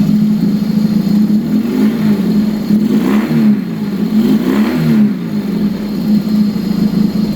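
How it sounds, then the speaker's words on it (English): Motorcycle engine running smoothly after a carb sync and timing adjustment, a loud close steady low drone with a couple of gentle rises and falls in revs. "your bike is just running beautifully"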